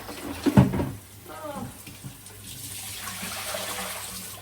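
Water running from a tap into a bucket, with a brief loud gush and splash early on followed by a softer steady flow, while a person speaks over it.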